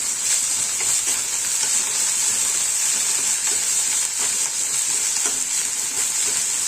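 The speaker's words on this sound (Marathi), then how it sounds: "एक मिनिट छान ते वाटण परतून घ्यायचंय" Cumin and a ground spice paste fry in hot ghee for a potato bhaji, giving a steady, close, even sizzle with faint stirring scrapes and no talking.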